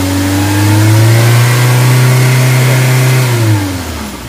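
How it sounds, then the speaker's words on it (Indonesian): A car engine revs up from idle and holds at a steady high pitch for about three seconds before dropping back, loud and close, during a check of the alternator's battery charging output. "Silakan digas, coba kita gas"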